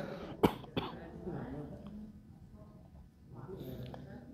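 One sharp cough near the start, followed by a quieter throat sound, with faint murmuring voices in a quiet room during a dawn Quran recitation study class.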